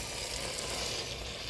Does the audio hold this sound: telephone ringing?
no